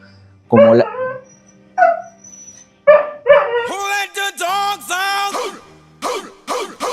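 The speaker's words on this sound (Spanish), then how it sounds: "disculpen el perro ladrando" A dog barks several times in sharp, separated bursts, followed by a rapid run of higher yelping barks, fairly close and clear.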